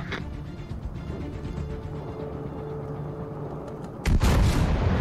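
The main guns of the French battleship Republique in World of Warships Legends fire near the end as a loud, heavy boom. Before it comes a long stretch of steady engine rumble and ambient game noise.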